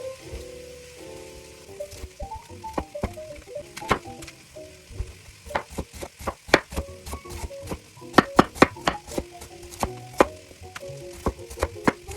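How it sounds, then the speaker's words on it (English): A knife chopping fresh cabbage, with a string of sharp, close cutting taps that become faster and denser toward the end over a quiet kitchen background, with no talking. "Now we're just going to finish up the cutting of the vegetables with this cabbage"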